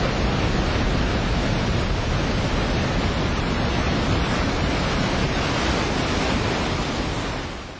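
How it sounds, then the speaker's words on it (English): Ocean waves rolling ashore and breaking, a continuous loud wash of surf with dense hissing foam that stays steady for several seconds before easing slightly at the end. "as the waves roll ashore, they climb"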